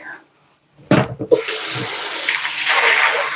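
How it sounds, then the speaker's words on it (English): Tap water runs steadily into a sink as an empty bag of TVP (textured vegetable protein) is rinsed, a few splashes and handling knocks at the start giving way to a continuous close rush of flowing water. "I'm going to rinse this, my empty bag."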